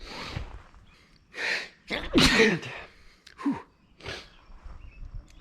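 A series of breathy bursts leads into a forceful grass-pollen allergy sneeze up close, followed by sniffs and short snorting breaths.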